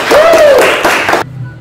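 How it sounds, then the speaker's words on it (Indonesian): An audience at a church talk-show gathering breaks into a short, loud burst of clapping and cheering with a rising voice over it, then cuts off abruptly into near silence. "Oke, tepuk tangan."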